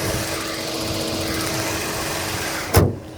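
A Genesis EQ900 car engine idles with a steady, even hum, followed by a short loud thump or clunk near the end.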